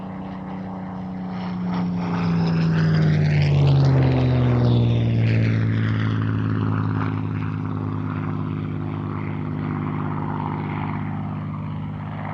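A Spitfire Mark IX, LF.IXe variant, piston-engine propeller fighter flying past at an airshow. Its loud engine drone swells to a close pass, then drops in pitch and lingers as it moves away, with no talking.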